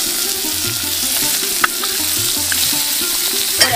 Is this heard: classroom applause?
no